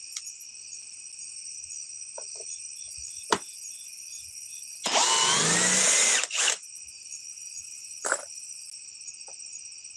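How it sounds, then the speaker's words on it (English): A power drill removing fasteners gives one short, loud burst of about a second and a half, followed by a brief second whir, over steady background insect chirping. "Now let's try to remove them with the drill."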